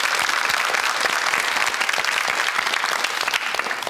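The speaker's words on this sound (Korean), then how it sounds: "격려의 박수 한번 부탁드리겠습니다" A studio audience at a 2002 Korean TV quiz show breaks into loud, sustained applause: dense overlapping clapping at a steady level from start to finish, with no voices over it.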